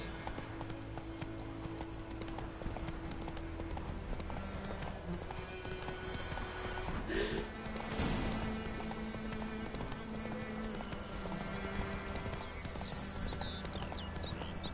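Roach, a horse in The Witcher 3, gallops with a steady clip-clop of hooves running continuously throughout, set against a constant game ambience, with a brief louder swell midway.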